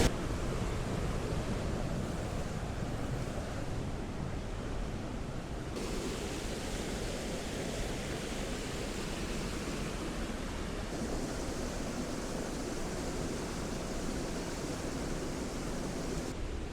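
Steady broadband rush of Baxenghyll Gorge waterfall on the Ingleton Waterfall Trail, a continuous roar of falling water filling the gorge with no breaks, close and even throughout.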